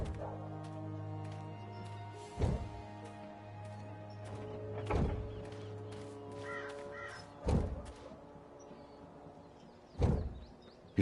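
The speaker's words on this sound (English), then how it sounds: "Hold still, you filthy little fowl" Crow cawing in the Dreamfall video game, several harsh caws spaced a few seconds apart over a low sustained background hum, fairly clear and near.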